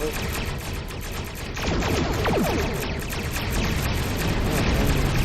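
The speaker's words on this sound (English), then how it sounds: "Those torpedoes actually landed, so that's good." Heavy explosions from torpedo strikes in the space combat game Star Trek Online, a dense loud barrage of booms and crackling impacts that swells partway through and keeps rumbling.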